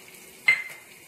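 Green chilies hit hot oil with bay leaf and cardamom for jeera rice, letting out a short, sharp sizzle that flares up and then settles into a soft hiss.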